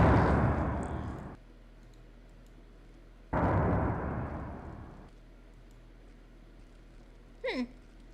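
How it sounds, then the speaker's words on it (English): Two loud blasts go off in a video game, each a sudden booming burst that rings on for about a second before dropping to a low hum, with a brief higher sound near the end. "An explosion I was not responsible for."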